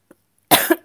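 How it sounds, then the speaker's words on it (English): A single loud, harsh cough bursts out close by, followed by a short second cough after a brief pause, with near silence before it. "sorry, coughing"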